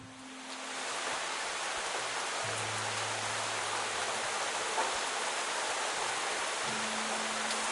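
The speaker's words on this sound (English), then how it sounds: "Shelter from the rain." Steady rain in the video game Fall of Porcupine, a constant broadband hiss that swells in over the first second and then holds evenly, with faint low tones beneath it.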